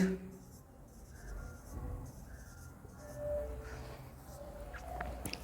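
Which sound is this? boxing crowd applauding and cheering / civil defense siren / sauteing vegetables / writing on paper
writing on paper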